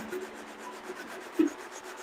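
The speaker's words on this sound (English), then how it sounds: "Gonna do a little bit of sanding, clean up some of that glue" Faint, steady rubbing of sandpaper against wood in rhythmic strokes, cleaning up glue on a center console, with one brief louder scrape midway.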